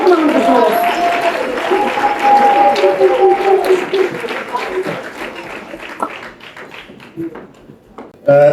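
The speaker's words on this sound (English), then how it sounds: "Let's give Hollywood Bets a very warm round of applause" An audience at a Gauteng athletics awards ceremony claps warmly for a sponsor, a dense patter of many hands that gradually thins out, with crowd voices mixed in.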